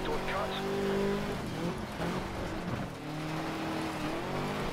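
Rally car from Colin McRae DiRT 2 racing through corners, steady engine drone with shifting pitch and a brief tire squeal, loud and continuous beneath someone talking.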